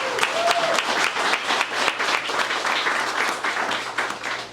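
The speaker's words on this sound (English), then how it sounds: "Can we give them a round of applause?" An audience at a Senate candidate forum in a VFW post hall applauding, a full, sustained round of many hands clapping at close range, loud and even from start to finish.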